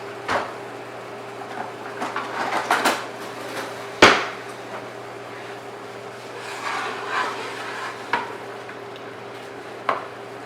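A spoon scrapes and clacks against a hot pan while breaking up sizzling ground meat in a home kitchen, with scattered rubbing strokes, one sharp knock, and a steady background hum.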